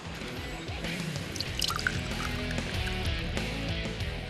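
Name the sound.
marsh snail extract dripping down into oil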